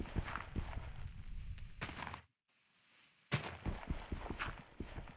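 Horse hooves clip-clopping in the video game Cavemen Ranchers, a run of quick, close thuds that stops briefly for a moment of silence and then resumes at the same pace.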